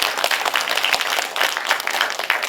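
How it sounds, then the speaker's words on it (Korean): Lecture audience at a Lotte Cinema special talk bursts into sustained applause, a dense, steady wash of many hands clapping close by, with no voices over it. "그게 용납이 되면 박수 부탁합니다"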